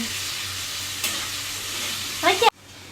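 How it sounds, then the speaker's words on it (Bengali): Onions stir-fry in oil for chow mein with a loud, close sizzle and crackle, then a quick burst of spatula scraping before the sound cuts off abruptly. "আমার পেঁয়াজ হয়ে গেছে ভাজা"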